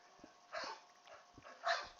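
A dog barking in the background during a Minecraft gaming session: several faint, distant yips and barks come in a loose, irregular rhythm over low room noise, with no talk.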